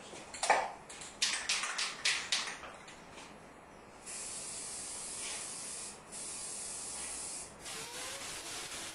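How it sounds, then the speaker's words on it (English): A spray gun lays a fog coat of paint on a 1959 Chevy pickup hood: short hissing bursts and handling noise first, then a long steady close hiss of spraying with brief breaks. "lay down a fog coat so we can see where our high and low spots are"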